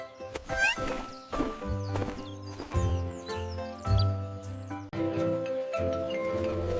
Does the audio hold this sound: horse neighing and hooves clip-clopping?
yes